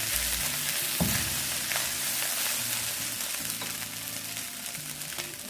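Shrimp fried rice sizzles and crackles in a hot pan as it is stirred, with a steady frying hiss and a few sharp scrapes and clinks of the utensil against the pan.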